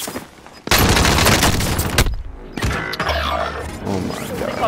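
Gunfire in Call of Duty: Warzone, with loud close bursts of automatic fire and rapid shots broken by short pauses, then scattered fainter shooting amid game sounds.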